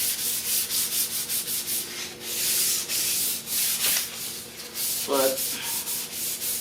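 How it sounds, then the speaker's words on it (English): Wood on a DIY floating shelf being sanded by hand with fine 600-grit sandpaper, a steady rhythmic scratching of repeated close strokes, with a brief spoken word near the end. "Could be that 600 is a little too fine of sandpaper."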